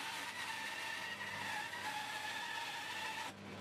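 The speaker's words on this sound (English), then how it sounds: "now I'll cut out those lines on the bandsaw" Bandsaw cutting a shaped piece of wood for a wooden computer mouse, a steady loud whine with a sustained pitched tone that stops abruptly near the end, with no voices.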